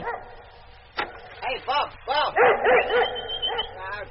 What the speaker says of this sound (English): Dog's only got to yap a little and you think it's dingoes after the sheep